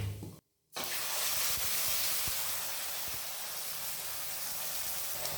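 A loud, steady sizzle and hiss as ground kara chutney paste hits hot oil, starting abruptly after a brief silence and continuing without letup.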